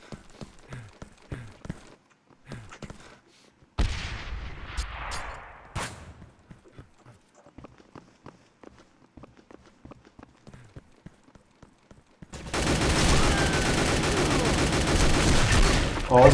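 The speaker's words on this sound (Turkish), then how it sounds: "Oo, Rabbit de beni vurdu ya" Gunfire in the online shooter game Phantomers Online: sparse sharp shots and quick clicks and steps, then a loud dense burst of continuous firing toward the end.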